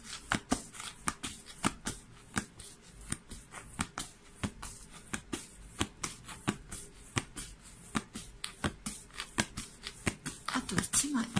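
Tarot cards being shuffled and drawn during a reading: a steady run of crisp riffling snaps and card taps throughout, close and fairly quiet, with a soft voice talking over them.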